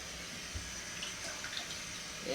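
Water runs steadily into a pot of okra soup with seasoning and fish, a continuous splashing pour heard close and alone from start to finish.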